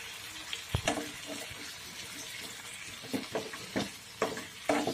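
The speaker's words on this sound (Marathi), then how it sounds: "व्यवस्थित मिक्स करून घ्यायचं आपल्याला मीठ आणि बटाटे" Potatoes with salt and red chili powder stirred in a pan for a fasting-style potato bhaji, giving irregular scraping and clattering strokes over a soft, steady sizzle, close and fairly quiet, with no talking.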